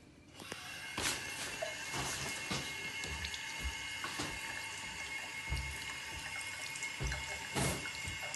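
Fake blood washed off under a running tap, with a soft steady stream of water, scattered splashes and knocks of handling, fairly quiet and without speech.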